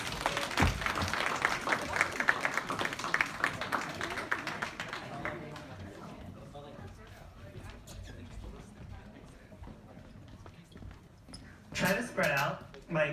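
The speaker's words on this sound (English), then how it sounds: "Please give them a round of applause." Audience applause at a stage event, a dense burst of clapping from a crowd that fades out over several seconds, followed by quieter room sounds and a brief second flurry near the end.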